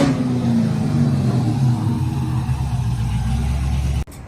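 An LS-swapped Ford F150 engine revs hard toward 4,000 RPM, a loud, close, sustained roar with the pitch shifting as it strains, then cuts off abruptly near the end.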